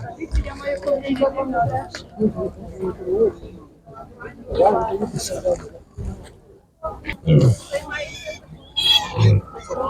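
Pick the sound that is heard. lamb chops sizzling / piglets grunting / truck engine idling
piglets grunting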